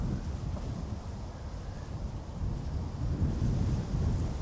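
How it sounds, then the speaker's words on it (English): Easterly wind buffets the open air at Amsterdam Schiphol airport, a loud, continuous low rumble that gusts and swells over several seconds, with no voices. "plenty of wind from the east"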